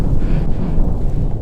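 Steady, loud wind buffeting the microphone atop the Great Sand Dunes with sand whipping, a low rumbling roar with gusty fluctuations throughout, no voices.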